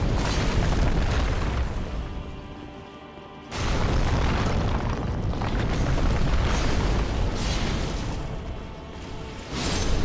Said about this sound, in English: I have to be careful not to hit Bior, which is why I'm only using fire here.